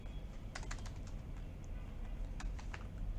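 Computer keyboard keys clicking in short bursts of quick taps with a gap between, faint against a low background hum.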